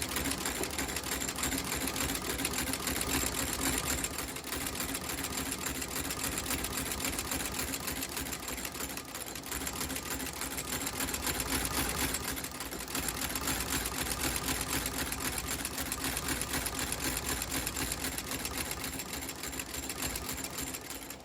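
A stitching machine sews a new sole onto a cowboy boot welt, running in a steady, rapid mechanical chatter with fast repeating needle strokes, loud and close, throughout the full stretch with only slight dips.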